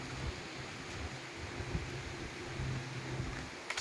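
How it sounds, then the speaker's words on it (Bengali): Steady rain falls outdoors during the rainy season, a continuous low wash of noise with some rumble and no voices. "বৃষ্টির আওয়াজে ভয় লাগছে বলে"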